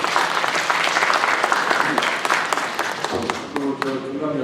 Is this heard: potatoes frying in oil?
no